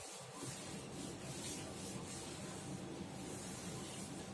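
Writing is rubbed off a classroom board with a duster, making a continuous soft scrubbing hiss. It is faint but steady for several seconds, with no speech.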